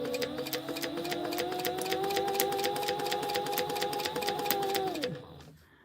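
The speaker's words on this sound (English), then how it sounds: "we're going to back stitch at the beginning and the end." A sewing machine backstitches a crossbody bag, running in a fast, steady mechanical whir with a rapid ticking needle rhythm for about five seconds before winding down and stopping.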